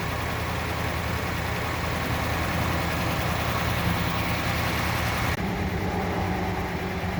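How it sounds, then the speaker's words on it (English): A 1964 Studebaker Daytona hardtop being prepped for pure stock drag racing idles steadily, a smooth low engine rumble close by, running alone and unchanged throughout with no voices. "She's idling nice."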